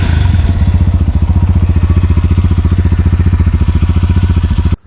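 GPX Demon GP 165 RR sport motorcycle engine running close by with a loud, rapid, even exhaust pulse, a steady throbbing idle that cuts off abruptly near the end.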